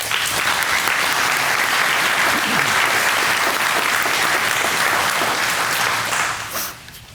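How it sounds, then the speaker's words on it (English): Sustained audience applause at a fire department honors and awards ceremony, a dense, steady clapping from a full room that carries on for several seconds and then fades out near the end. "Can we have a round of applause for this evening's speakers"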